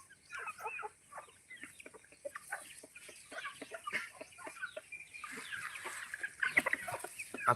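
Free-range country chickens on a farm cluck continuously in short, busy bursts, a flock close by with no talking.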